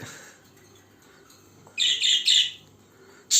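Quiet indoor background, then a few bright, sharp chirps from a small female pet bird with French molt nearby, coming in short bursts.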